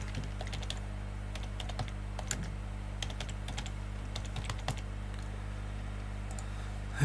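Typing on a computer keyboard, a steady patter of light clicks over a low electrical hum, fairly quiet and close.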